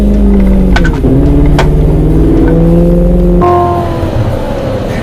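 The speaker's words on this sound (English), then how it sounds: "There's a lot of acceleration we have here." A Chevrolet Corvette C7 accelerates hard from inside the cabin, its engine note loud and steadily climbing through the revs before a gear change drops the pitch and the pull continues.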